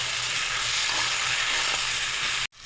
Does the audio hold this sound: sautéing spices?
yes